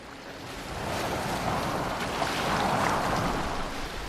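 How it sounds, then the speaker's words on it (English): A boat moves across open water in Assassin's Creed Valhalla, a continuous broad wash of waves and wind that grows louder after the first second and stays steady. "Are you well enough to steer this boat?"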